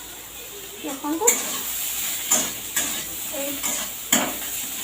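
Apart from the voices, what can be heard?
frying soybeans in a pan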